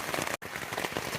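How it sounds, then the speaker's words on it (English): Heavy rain pouring at dawn on an Appalachian Trail thru-hike, a dense, steady hiss of drops with one brief dropout, close and loud throughout the short burst. "it's really pouring out there"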